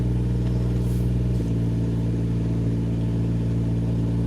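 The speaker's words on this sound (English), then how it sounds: "All those cars going by." Steady traffic noise from cars passing on highway 385 near Greenville, a continuous mid-pitched engine and tire rumble with a slight shift partway through, no voices.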